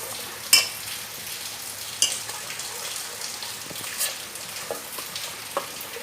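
A spoon stirs spinach and paneer gravy in a pan, giving soft scraping strokes over a quiet, even sizzle. A few sharper knocks against the pan stand out, and nobody speaks.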